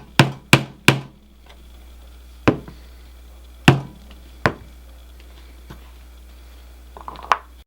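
Leather being punched for a skillet hot handle, heard as sharp, close knocks: a quick run of three, then single hits spaced a second or so apart, with a faint low hum underneath.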